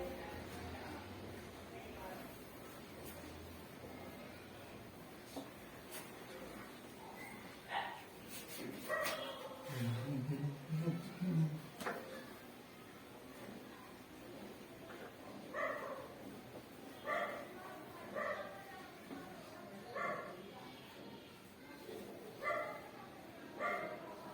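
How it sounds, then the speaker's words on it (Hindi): Dogs barking in the background: a run of repeated distant barks in the second half, faint under someone speaking close to the microphone. "अरे आपको कुत्ते भौंकने की भी आवाज भी आ रही होगी"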